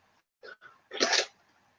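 A single close, loud sneeze bursts out after a couple of short inhaling breaths, then quiet follows.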